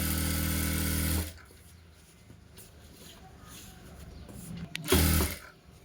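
A sewing machine stitches blouse lining in a short loud burst, goes quiet, then runs briefly again near the end.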